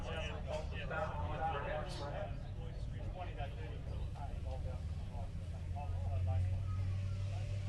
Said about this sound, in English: Round the Hella hairpin comes Ewan Beattie in the little Datsun Sunny